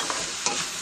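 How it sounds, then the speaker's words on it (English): A spoon stirring butternut squash soup with garlic in a pot, two short faint scrapes over a steady soft sizzle, brief and close. "Give it a little stir."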